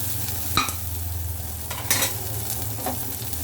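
Onions sautéing in oil in a pan for a mixed vegetable sambar, giving a soft, continuous sizzle over a low hum, broken by a few distinct stirring scrapes.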